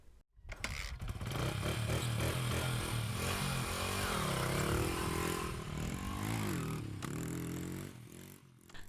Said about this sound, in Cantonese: 電單車